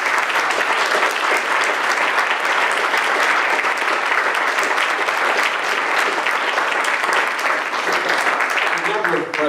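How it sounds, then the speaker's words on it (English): A round of applause from the audience for a roundtable panel, continuous and dense clapping at a steady loud level throughout, with a few faint voices underneath near the end. "Let's have a round of applause for our entire panel here."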